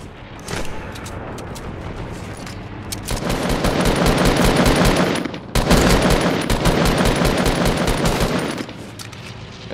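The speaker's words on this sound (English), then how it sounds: "I'm putting down turrets for everybody." Rapid automatic gunfire from turrets in the video game Fortnite, a dense sustained burst of shots that swells loud for several seconds, briefly drops, then resumes before tapering off.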